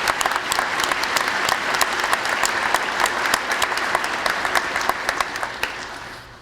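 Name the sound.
audience applause for the mayor at police academy graduation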